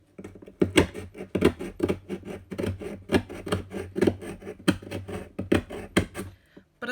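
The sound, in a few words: knife cutting along scored line in wediboard by hand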